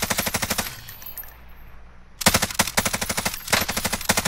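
Automatic gunfire in Call of Duty: Modern Warfare, shot through a wall: rapid bursts of loud close shots, a short pause after the first burst, then sustained rattling fire.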